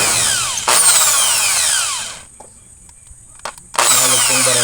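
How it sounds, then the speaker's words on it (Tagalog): A power drill bores into a bicycle crank in loud, whining bursts, with a pause of quieter clicks and handling noise between runs before the drilling resumes. "Butasin natin yung crank."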